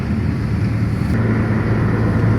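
A 2200 cc Honda Accord Cielo drives along a road, giving a steady, loud engine drone and road rumble from inside the cabin, with no talking.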